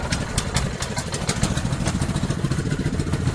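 The engine of a 2006 Friesen 90BST seed tender, choked, runs close by with a rapid clattery idle and a steady pulsing rhythm throughout.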